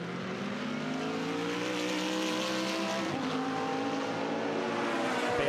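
A BMW race car charges out of the first chicane at Monza during a Blancpain Endurance Series race, its engine roaring loudly and rising in pitch as it accelerates, with other race cars droning close behind throughout.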